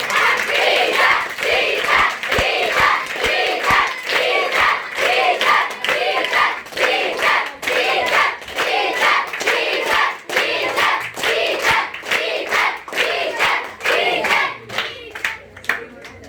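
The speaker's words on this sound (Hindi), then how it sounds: "अब इनके लिए ताली बजाइए।" An audience at a gathering in Surat, Gujarat bursts into sustained applause. Dense, rapid clapping stays loud and close for about sixteen seconds, with some shouts mixed in, then trails off at the end.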